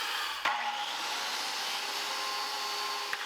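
A circular saw cuts a notch into the top of a western red cedar 4x4 post, a steady, loud whining buzz running the full length with sharp knocks as the blade enters and leaves the wood.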